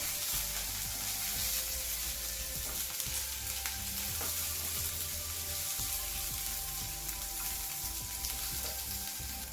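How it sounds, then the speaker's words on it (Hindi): Onions for a vegetable stew base sizzle steadily in a pan while being stirred, a continuous close hiss with occasional scraping knocks and no talking. "और इसे मिक्स कर लूंगी।"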